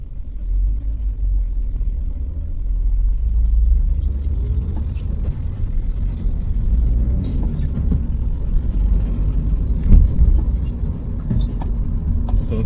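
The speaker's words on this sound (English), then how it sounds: "you notice there's one long hauler truck already, 10-wheeler" A long-haul ten-wheeler truck drives along a road, a steady low rumbling engine and road drone holding throughout at moderate loudness, with a slight swell near the middle and end.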